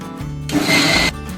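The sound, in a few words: mixer grinder grinding boiled soya chunks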